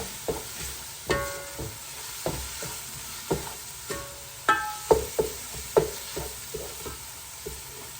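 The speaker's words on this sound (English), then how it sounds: "The onions are sauteing away nicely." Onions sautéing in a pan for chicken macaroni, with a steady low sizzle and intermittent sharp clinks of a utensil stirring against the pan, close by.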